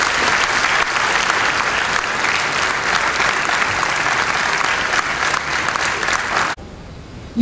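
Graduation day audience applauding the graduates at a junior college, a loud, steady wash of clapping from many hands that cuts off sharply near the end.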